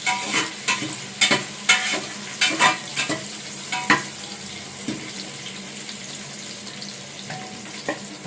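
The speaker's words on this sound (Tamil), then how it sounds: "அது மாதிரி நல்லா வதக்குங்க, கொஞ்சமாக வதங்கணும்." Ingredients for a spicy taro-root curry sautéing in a pan, with a continuous oily sizzle broken by repeated sharp scrapes and clinks of a stirring spoon, close and fairly loud.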